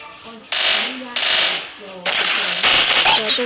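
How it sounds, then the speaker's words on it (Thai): Gunfire in a shooter video game comes in several sharp, rattling bursts separated by short pauses, loud and close, with a voice talking over parts of it. "ใครบางคนมันยิงกู"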